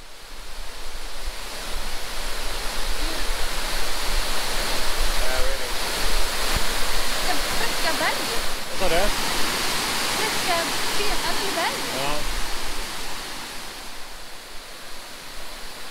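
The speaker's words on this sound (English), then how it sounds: "When we reached Kepirowi waterfall, we were so happy since we were the only tourists there." Constant roaring rush of Kepirowi waterfall on Pohnpei, about 20 metres high over dark basalt, broad and steady throughout, with faint voices and bird chirps barely audible beneath.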